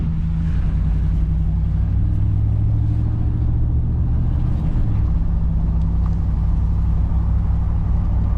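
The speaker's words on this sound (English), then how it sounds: "Let's take this spin around the neighborhood real quick" A 2009 Hemi Ram 1500 two-wheel-drive pickup with a worn front wheel bearing drives around a neighborhood, its engine and road noise a loud, steady low rumble heard from inside the cab throughout, with no talking.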